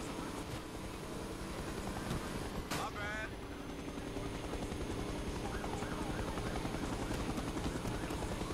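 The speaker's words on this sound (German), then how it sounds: "So, kann ich irgendwie den Heli ausschalten?" A police helicopter in the racing video game F&F: Showdown gives a steady, loud rotor drone throughout, with a brief sharp game sound near the start.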